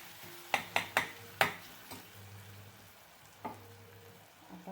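Stuffed eggplant masala with peanut powder and Kolhapuri red chili is sautéed in a pan: a low, quiet sizzle broken by several sharp spatula knocks against the pan, first in a quick cluster and then more sparsely.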